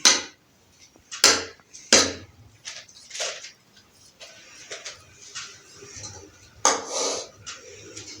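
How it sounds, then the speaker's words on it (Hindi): Kabuli pulao rice served onto a plate, a spoon or ladle clinking and scraping against a pot and plate in several sharp metallic knocks with softer scrapes between, close with no speech. "तो अभी हम इसको प्लेट में सर्व करते हैं।"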